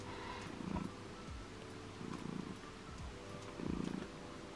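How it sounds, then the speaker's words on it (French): A cat purring softly and steadily up close, its rumbling rising in gentle rhythmic swells with each breath. "Écoutez un peu comme il ronronne."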